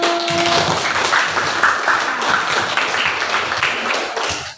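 A classroom full of students claps steadily for a few seconds, loud and dense, with a faint voice at the very start.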